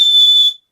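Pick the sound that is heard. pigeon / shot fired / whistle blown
whistle blown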